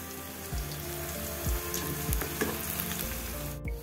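Potato and onion pakoras frying in hot oil at medium heat, a steady dense sizzle with occasional low clunks of stirring, close and continuous with no talking.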